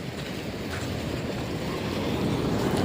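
Water rushes down from the Girnar foothills into Damodar Kund, a loud, steady churning roar mixed with low rumble and wind buffeting.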